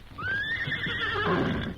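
A horse neighs once with a long, rising then falling whinny, fairly close, with hoof clip-clop and rustling underneath.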